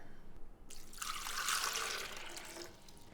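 Water pours steadily into a blender for a couple of seconds, a close splashing rush that fades away, with no talking.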